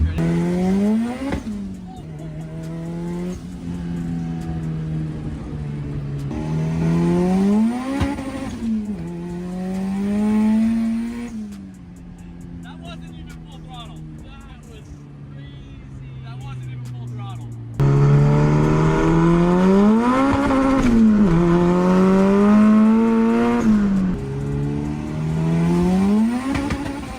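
A turbocharged Honda Civic accelerates hard through several gears, its loud engine note climbing in repeated sweeps and dropping at each shift, heard up close from inside the car.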